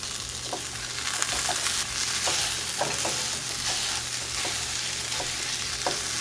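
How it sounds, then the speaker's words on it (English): Chorizo and potato fry in a pan with a steady, loud sizzle, broken by occasional stirring clicks of a utensil throughout. "After 4 to 5 minutes, you're gonna add your chorizo, and your chorizo is only gonna take about 7 to 8 minutes to cook."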